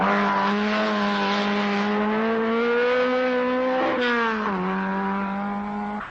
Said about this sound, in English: The Czechs, Blana and Hlavka in the Skoda